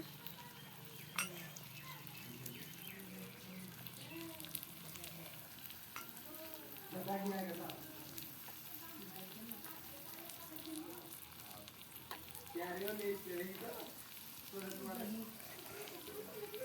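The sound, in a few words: potatoes frying in a pan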